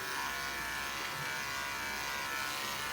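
Electric dog grooming clippers fitted with a 10 blade buzz steadily and closely throughout while a Cavapoo puppy is groomed, a continuous motor hum with no pauses and no talking.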